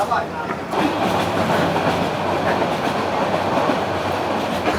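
A train rumbles steadily along with dense, continuous noise and a faint rhythmic clatter of wheels, loud and close, with muffled voices blended in.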